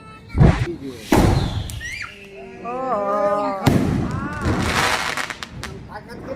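Sharp Diwali firecracker bangs burst out close by, followed by whistling, crackling fireworks, with people's voices mixed into the noisy scene.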